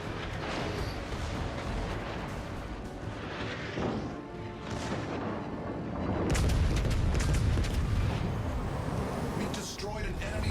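The USS Arizona battleship's guns fire in the video game World of Warships: Legends, a series of heavy booms and crashes that swell louder in the second half of the barrage.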